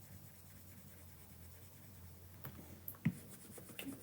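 Faint soft scratching of a stylus drawing on a tablet screen in Procreate, quiet steady rubbing with a few small taps toward the end, close and very low in level with no speech.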